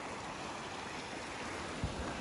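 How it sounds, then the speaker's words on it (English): Open ocean waves heard from a boat at sea, a steady soft wash of water and wind, fairly faint and continuous, with a small bump of motion near the end and no talking. "we're at the open ocean now"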